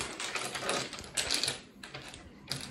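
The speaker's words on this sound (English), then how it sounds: "she's doing a good job mixing the dominoes." Dominoes clatter and rattle continuously as they are shuffled and mixed by hand on a table, a dense close clicking with a few louder bursts and no talk.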